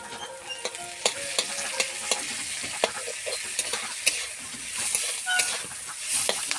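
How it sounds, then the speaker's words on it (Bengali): Beetroot frying with tomato added, a continuous close sizzle broken by regular scraping clicks of a spatula stirring the pan, with no talk over it. "আমি আমার ভাজাতে টমেটো দিয়ে দিচ্ছি।"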